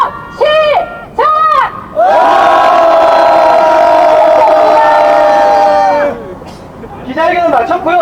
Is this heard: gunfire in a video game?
no